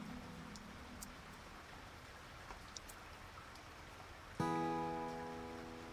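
Steady light rain hisses evenly on surfaces, faint and continuous, with a few soft taps before a sudden tonal sound cuts in near the end.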